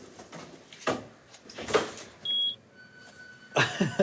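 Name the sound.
alarm beeping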